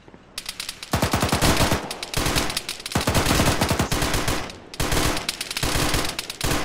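Heavy automatic gunfire in the military shooter Arma 3, sustained loud bursts of rapid shots in several long volleys with short gaps between them, close and dominant, no voices.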